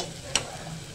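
Varan dal is poured into a sizzling masala tempering, giving a low steady sizzle with one brief bright splash as it lands.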